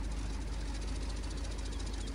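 A tractor engine idles steadily in Farming Simulator 15, a low continuous rumble with a faint rhythmic knock, constant in level and heard alone.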